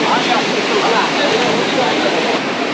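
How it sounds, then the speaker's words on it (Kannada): Water rushes hard out through open dam gates at Malavi dam, a dense, steady roar that fills the whole stretch without a break, loud and close. "8 ಓಪನ್ ಅದು ಗೇಟು, ಬಂದು ನೀರು ಬಂದಂಗೆ ಹೋಗ್ತಿದೆ"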